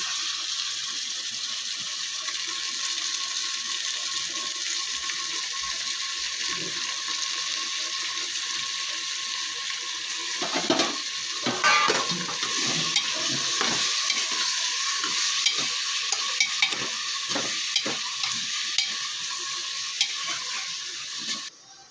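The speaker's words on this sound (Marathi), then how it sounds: "इथे आता आमचा कांदा पूर्ण भाजून झालेला आहे आता आपण ह्यामध्ये वजरी घालून घ्यायची आहे" Goat intestine frying in hot oil with browned onions, a steady loud sizzle throughout, with stirring and scraping clatter joining in the second half.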